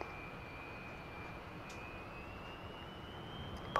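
Sukhoi Su-27 jet in the DCS flight simulator, a steady engine roar with a slowly rising whine held throughout, close and continuous.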